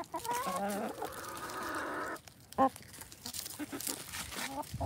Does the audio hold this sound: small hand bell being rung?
no